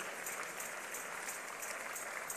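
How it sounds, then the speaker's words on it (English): Sunday church congregation applauds newcomers with continuous, uniform clapping from many hands, heard from a little distance and steady throughout. "Clap for them as they come out."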